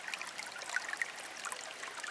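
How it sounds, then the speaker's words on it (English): Running water at a desert oasis at Furnace Creek, a steady soft trickle and bubbling stream with small splashy plinks, close and fairly quiet, with no voices. "Running water."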